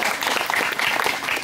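Loud, brief applause from participants at a youth meditation session, a close burst of dense clapping that fills the whole moment.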